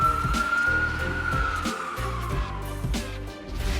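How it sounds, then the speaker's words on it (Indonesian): Ambulance siren wailing through congested traffic in China, a steady falling tone continuous and fairly near over the low rumble of engines, with no voices. "kendaraan prioritas ini harusnya diberi ruang saat sirenenya udah berbunyi"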